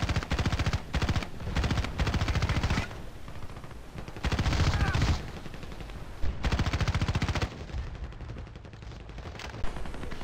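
Assault rifle fire from the video game Battlefield Play4free rattles in rapid, loud automatic bursts, separated by short pauses and a quieter stretch toward the end.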